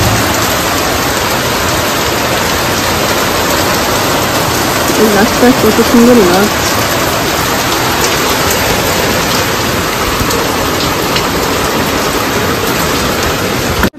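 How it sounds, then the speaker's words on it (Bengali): Steady rain falls throughout on a street, a continuous broadband hiss of drops close by, while a person speaks briefly over it in the middle. "বৃষ্টি হচ্ছে।"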